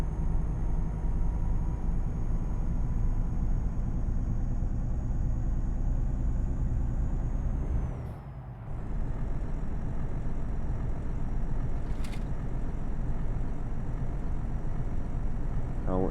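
Truck engine from Euro Truck Simulator 2 hums steadily and fairly loud throughout, with a brief dip partway through, then resumes its constant drone under no talk.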